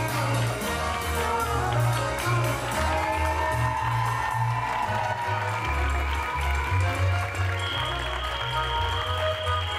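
Live studio audience on a Greek midday TV show breaks into sustained applause and cheering, a loud, full crowd clapping continuously with whoops, under music.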